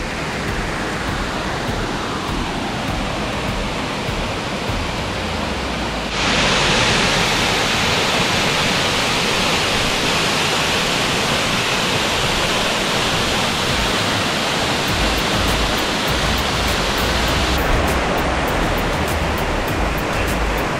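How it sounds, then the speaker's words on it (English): A large three-tier waterfall in Langkawi, about 200 metres tall, roars with a continuous dense rush of falling water, close and steady, growing louder partway through. "That's an epic waterfall."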